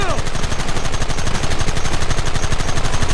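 Rapid gunfire from the video game Red Dead Redemption, a dense, continuous barrage of overlapping shots with machine-gun-like rhythm, loud and sustained throughout.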